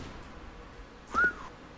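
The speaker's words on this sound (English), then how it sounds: "Poochie whistling at that amazing USP shot" A short rising whistle from a person, a single quick upward note standing out over a quiet background, during a Counter-Strike match commentary.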